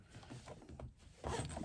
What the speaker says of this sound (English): pull my zipper pull out of the way.